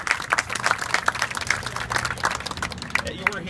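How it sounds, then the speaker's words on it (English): A crowd at a women's campaign rally for Hogan, marking Domestic Violence and Breast Cancer Awareness Month, claps in a scattered burst of applause with some voices and cheers mixed in. "How about a big round of applause for how wonderful they look?"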